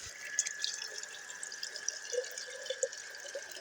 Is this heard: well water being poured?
yes